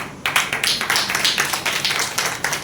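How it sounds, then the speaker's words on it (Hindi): An audience claps in quick, uneven bursts, the applause close and steady for a couple of seconds. "ताली अभी नहीं बजनी चाहिए"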